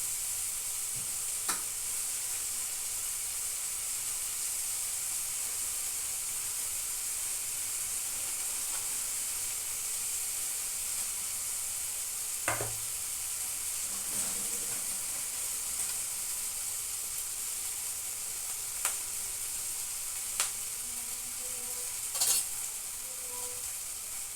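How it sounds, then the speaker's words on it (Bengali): Onions and chicken fry in a pan with steady, hissing sizzle throughout, broken by occasional scrapes and clicks as the mixture is stirred, close and even in level. "পেঁয়াজটা ভাজা মোটামুটি হয়ে গেলে তারপর আমি চিকেনটাও দেবো।"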